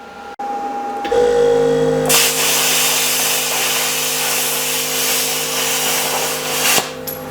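A plasma cutter set to 45 amps slices through 1/8 inch steel, starting with a brief pilot tone, then a loud, steady hissing roar for about five seconds that cuts off abruptly, close by.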